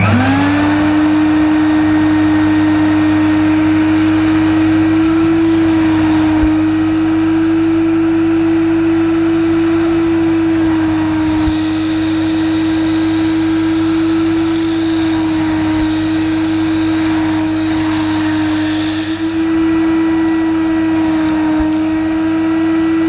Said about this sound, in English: this Hoover Aquajet Electronic does work as it should